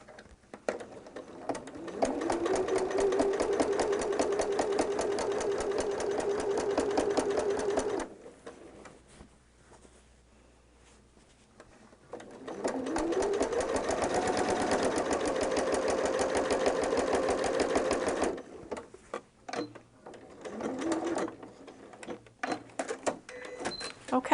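A sewing machine stitches down a seam in two sustained runs of rapid, even clatter with a motor hum rising in pitch as it speeds up, separated by a brief quiet pause.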